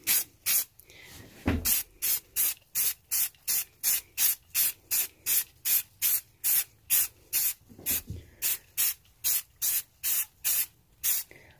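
A can of Rust-Oleum flat black primer sprays on a memorial sign in short, even spurts, about two dozen regular hissing bursts with brief pauses between, close and clear with no talk.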